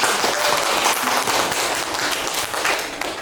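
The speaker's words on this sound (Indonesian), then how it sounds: "Tepuk tangan dulu kita semua." Audience applause at a school community learning sharing session in Indonesia, a dense crowd clapping steadily and fairly loud throughout, with no speech over it.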